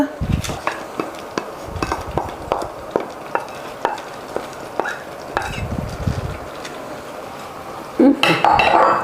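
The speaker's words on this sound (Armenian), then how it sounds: "Մի հատ այսպես լավ խառնում ենք" Rice and bulgur are stirred in a pot while stuffed dolma is prepared, giving a run of scraping spoon clinks and knocks against the metal with a louder clatter of cookware at the end.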